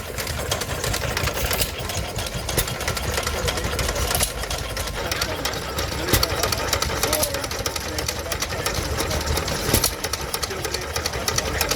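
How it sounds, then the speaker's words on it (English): A stationary engine runs steadily at a Victorian extravaganza show in Llandudno, its continuous mechanical chugging and clatter holding an even level throughout, with faint crowd noise around it. "It's a lovely engine"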